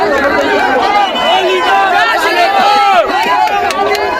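Protesters lingering after a rally, a dense crowd of close voices talking and calling over one another in a loud, continuous babble with no single speaker standing out.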